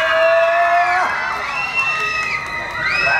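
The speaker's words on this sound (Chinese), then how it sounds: "掌声欢迎" An audience at a national secondary-school street dance competition preliminary cheers and whoops for a high school dance team, loud crowd shouting with rising high-pitched screams over applause.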